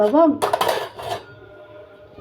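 A plate lifted out from a stack of dishes in a home kitchen, a brief clatter of ceramic knocking against ceramic right after a short bit of speech, then a faint fading ring.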